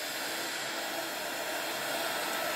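Hot air blower drying paint on a background, a steady close whooshing fan-and-heater roar holding constant throughout with no talk.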